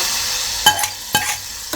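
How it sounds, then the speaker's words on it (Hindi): Steady hiss of hot oil sizzling as tadka tempering is poured onto curry, with a few sharp crackling bursts and spoon clinks rising above it. "अब इस पे डाल देंगे हमारा तड़का"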